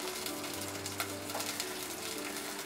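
Drumsticks in a mustard-paste curry sautéing with coriander powder, cumin powder and salt, a continuous low sizzle in the pan with faint stirring and no voices.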